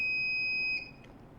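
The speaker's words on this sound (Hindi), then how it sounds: "इस वक्त हमें बज़र की बीप भी सुनाई दे रही है" A small buzzer on a DIY battery level indicator circuit, with the battery at full charge, gives a sustained piercing electronic beep that cuts off after about a second, leaving a faint residual tone.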